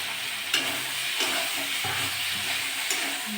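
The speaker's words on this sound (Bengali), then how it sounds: "ভালো করে কষে নেব" Tilapia curry masala is sautéed in a pan with a continuous soft sizzle and a few scraping stirring strokes recurring roughly every second, close and moderately loud.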